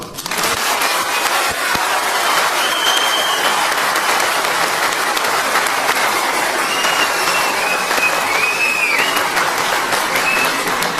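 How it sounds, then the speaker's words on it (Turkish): Dense, sustained applause from a large audience, steady and loud throughout with no pauses. "alkış dediğin ya başlamamalı ya tavan saldanmalı"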